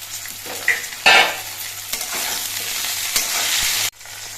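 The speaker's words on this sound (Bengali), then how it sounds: "আলুগুলো আমি বেশ কিছুক্ষণ ভেজে নিয়েছি এবার এর মধ্যে আমি কয়েকটা চেরা কাঁচা লঙ্কা দিচ্ছি" Potatoes fry in a pan as slit green chilies go in, with a sharp burst of sizzle, spatula scrapes and stirring and a steady crackle that cuts off near the end.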